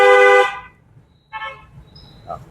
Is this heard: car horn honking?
yes